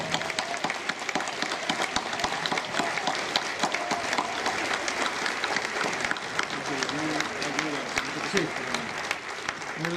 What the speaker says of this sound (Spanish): Y ahora quiero pedir un aplauso para ustedes